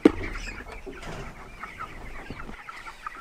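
A chicken gives a few soft clucks close by, under a steady room background with a short sharp bump at the start.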